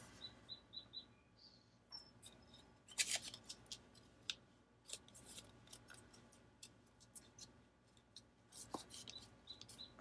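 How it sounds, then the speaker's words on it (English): Strong scissors cutting through paper, a run of crisp snips and rubbing scrapes, close and quiet, with bird chirps twittering in the background. "let's see if I could cut this. I have some really strong scissors."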